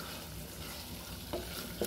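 Chicken is stirred in a frying pan, a low constant sizzle with a couple of soft scraping knocks near the end, no voices.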